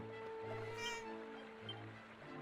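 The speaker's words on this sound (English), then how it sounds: "The cat is... Someone must have trodden on its tail." A cat yowls and meows in Dragon Quest 7, drawn-out tonal cries over steady game music with soft ambient wash underneath.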